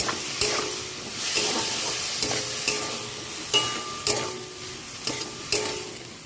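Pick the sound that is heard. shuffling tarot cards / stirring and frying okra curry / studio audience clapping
stirring and frying okra curry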